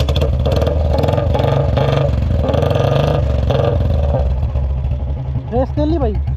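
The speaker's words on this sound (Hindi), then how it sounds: "देखो भाई बुलेट चालू हो गई अपनी" A Royal Enfield Bullet 350 motorcycle engine runs steadily with a loud, thumping low-frequency idle, while someone talks over it throughout.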